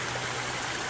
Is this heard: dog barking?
no